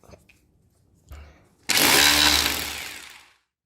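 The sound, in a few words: power drill drilling during drywall installation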